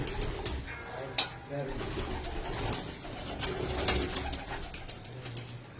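Pigeons coo in a breeder's loft in Faisalabad, a soft, continuous chorus of low rolling calls with faint background clatter.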